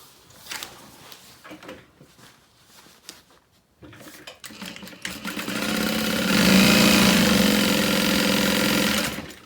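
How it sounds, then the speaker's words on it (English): After some handling noises and a short pause, a sewing machine runs at a steady, loud, close whir while stitching the side seams of a handbag. "we're going to sew along just these sides"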